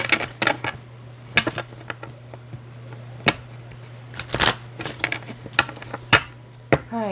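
Tarot cards are shuffled in repeated quick riffles and taps, crisp and close. A low steady hum runs underneath, and no one speaks.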